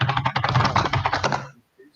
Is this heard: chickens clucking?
no